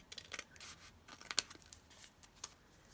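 Scissors snipping through junk mail envelope paper, a quick series of quiet, crisp cuts and paper rustles heard close up.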